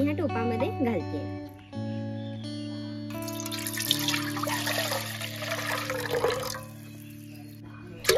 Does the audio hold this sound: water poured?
yes